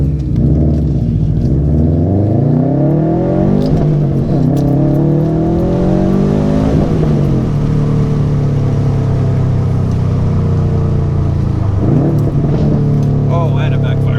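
A 2019 Subaru STI with a Remark exhaust is revved repeatedly, its engine note climbing and falling in loud, close sweeps over a deep, steady rumble.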